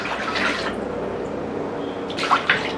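Liquid is poured into a pot for curing bacon, a close, steady trickle with a brief louder splash and a couple of clinks near the end, over a faint background hum.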